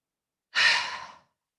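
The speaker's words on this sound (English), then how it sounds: "There's a bunch of fast little inhalations and then one long exhale alongside." A single, close breath is heard as part of a breathing exercise: a soft, airy exhale that rises quickly and fades over about half a second, surrounded by silence.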